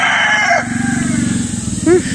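A rooster crows in the background over a steady low rumble, with a short rising call near the end.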